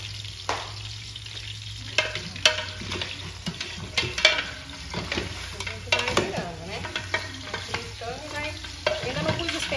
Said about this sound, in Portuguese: Vai virando, né? Vai fritando e vai.